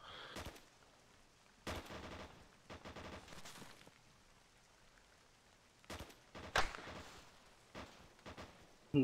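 Pistol shots in the tactical shooter game Arma 3, a few sharp separate cracks spaced irregularly against a quiet background.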